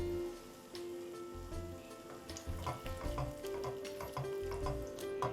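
Curd being stirred into soya masala in a pan, giving a steady frying sizzle with soft scraping stir strokes throughout, close and alone.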